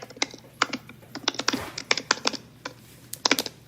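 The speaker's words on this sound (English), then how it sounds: "Lek types very aggressively." Hard, forceful keystrokes on a computer keyboard come in quick irregular clusters with brief pauses, close and crisp against a quiet room with a faint steady hum.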